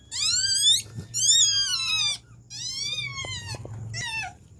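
Dog whining while giving birth, loud, high, wavering cries in three long bursts with short breaks between, close and clear over a low background hum.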